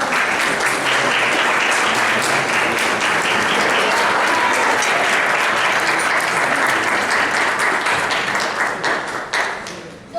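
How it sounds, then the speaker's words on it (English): Sustained applause from an audience at a fall honor society induction ceremony for newly inducted members, dense steady clapping filling the room and tapering off near the end. "Let's give all of our inductees a round of applause."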